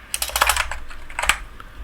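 Typing on a computer keyboard: a quick close burst of clicky keystrokes, then a short pause and a few more taps.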